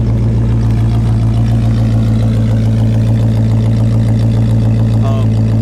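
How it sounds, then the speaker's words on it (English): A 1969 Oldsmobile Cutlass S with dual exhaust idles at close range with a loud, steady, deep rumble. "As far as dual exhaust sounds great on this car."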